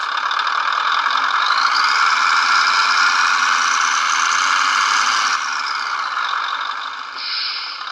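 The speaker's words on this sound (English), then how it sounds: "as soon as you apply throttle, it starts the engine sound." Beier MSM-1 micro sound module in an RC model producing a simulated engine sound, a steady droning hum with rising and falling pitch as throttle is applied, loud and continuous with no talking.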